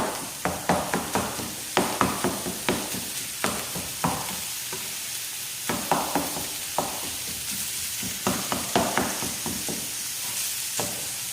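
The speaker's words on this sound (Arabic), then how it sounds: "نضيفوا هذيك الكفته ونطيبوها على نار شويه عاليه" Minced kofta meat sizzling in a hot pan over fairly high heat, with repeated scraping and stirring clatters from a utensil, close and steady, no talking.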